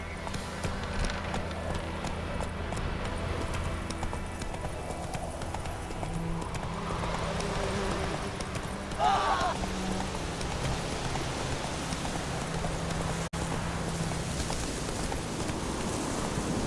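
Hoofbeats of the horse Roach clip-clopping steadily in The Witcher 3 video game, a continuous rhythmic gallop over rain and ambient game sound, with no talk.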